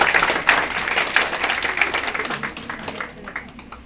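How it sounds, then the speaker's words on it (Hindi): An audience applauds at a district-level felicitation ceremony at a government girls' higher secondary school in Pulwama, a loud burst of clapping that gradually thins out over a few seconds, close and without talk. "तालियों के साथ"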